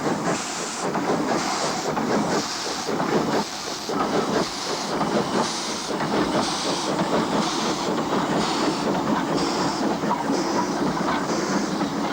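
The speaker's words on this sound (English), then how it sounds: "Using ZB class locos 205 and 211 on the 2-foot 6-inch lines, a double-headed train sets out into potentially dangerous territory" Double-headed narrow-gauge train on 2 ft 6 in track, hauled by ZB class locomotives 205 and 211, rolling steadily with a continuous loud rumble, hiss and rhythmic clickety-clack of wagons throughout.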